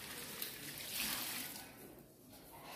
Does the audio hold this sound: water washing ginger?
yes